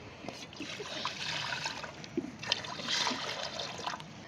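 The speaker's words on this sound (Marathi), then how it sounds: "आता पाणी ओतलंय" Water poured into a cooking pot during early-morning festival cooking before dal is boiled, a light trickling and splashing stream that runs steadily for a few seconds at moderate closeness.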